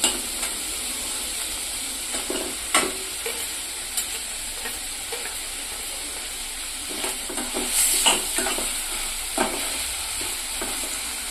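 Chopped onion sautéing with salt in a hot pan for egg bhurji, a continuous sizzle with occasional stirring scrapes and clicks of a spatula, close and alone without talk.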